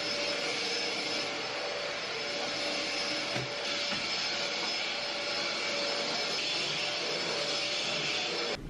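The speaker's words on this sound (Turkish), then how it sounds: "Şimdi bir oturma odasına süpürge tutacağım." A vacuum cleaner runs steadily at close range in a living room, a loud continuous whirring drone that holds level throughout.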